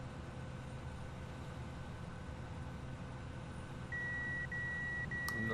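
A harvester's grain tank fill alarm in the video game Farming Simulator 17 gives a few short, evenly spaced electronic beeps over a steady engine and field drone.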